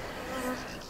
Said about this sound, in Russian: пчелы активно летают